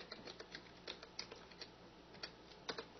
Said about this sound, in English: Now let's go ahead and type hello world.